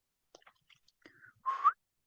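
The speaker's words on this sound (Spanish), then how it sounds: "Ese silbidito." One short, bright whistle from a person near the end, rising briefly and clear, preceded by a few faint clicks and soft breathy noises in an otherwise quiet space.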